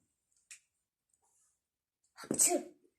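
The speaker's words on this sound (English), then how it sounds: "He sneezed for them." One loud, sharp sneeze bursts out after a short pause, preceded by a faint click, with near silence around it.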